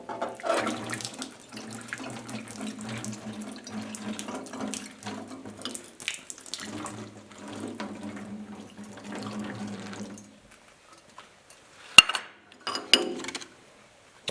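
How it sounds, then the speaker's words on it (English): Warm water pours and splashes into a Willys fuel tank, a steady running, gurgling stream that pauses briefly mid-pour, then stops, followed by a couple of faint metallic clinks. "we'll try and get some of this warm water in there without spilling too much of it"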